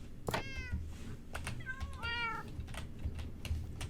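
A cat in Minecraft meows twice in short, clear calls, the second a little longer and wavering. A soft murmur and light clicking sit beneath them.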